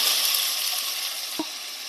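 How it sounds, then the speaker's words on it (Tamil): Chopped onions sauté in hot oil with a bay leaf for a Tamil jackfruit-seed kuzhambu, giving a steady, close, bright sizzle with one soft knock near the end. "இப்ப இந்த வெங்காயத்தை நல்லா பொன்னிறமா வர வதக்கிக்குவோம்"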